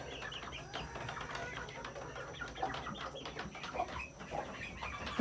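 Chickens cluck and murmur around a coop holding 39 birds, a scattered chorus of soft, irregular calls at moderate distance, with no talk.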